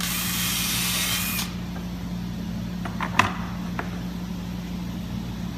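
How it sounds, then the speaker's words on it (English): A power drill countersinks screw holes in a wooden back-support piece, giving a steady close whine for about a second and a half before it cuts off and leaves a low background hum with a few faint knocks. "And then we're going to countersink these."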